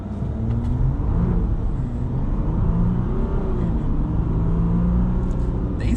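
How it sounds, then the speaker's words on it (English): A 2021 Ram Rebel EcoDiesel pickup held on the brakes while its diesel engine revs, a steady, loud low rumble running the whole time with a slight rise and fall in pitch. "But let's kind of brake torque this thing here."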